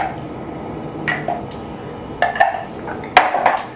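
A meatball mixture with ricotta cheese is worked together in a bowl, with soft squishing under a low background hum and a few clinks of a utensil against the dish, close and fairly quiet.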